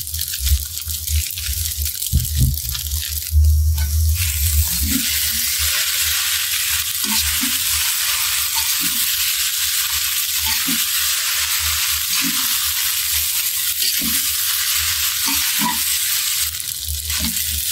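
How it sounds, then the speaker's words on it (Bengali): Fried vegetables are tossed into noodles in a pan, a steady sizzle running throughout, with a loud clatter at the start and repeated scraping strokes of a spatula as the chow mein is stirred. "এবার ভেজে রাখা সবজিগুলি দিয়ে দিলাম।"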